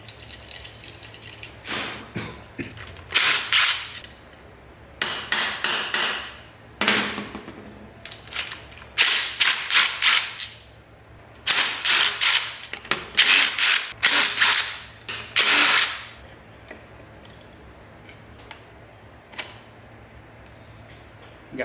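Bolts coming out and a cover being pulled off a BMW S1000RR engine case, heard as close bursts of ratcheting and metallic rubbing in short repeated runs with pauses between, ending in quieter scraping and handling noises.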